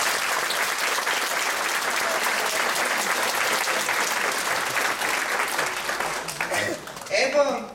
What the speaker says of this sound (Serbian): Za ovaj predivan hor i dirigenta i korepetitora gospođu Violetu Jovanovsku, molim jedan veliki aplauz.